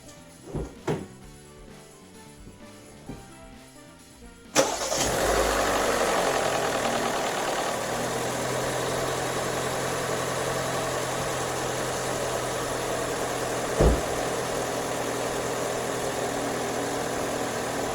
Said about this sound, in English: we're just kind of letting the car run for about a minute, letting that oil circulate